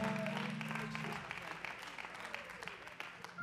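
Congregation clapping in a church service, a thick spread of hands applauding throughout, with a sustained low tone under the opening second before it fades and the clapping carries on alone.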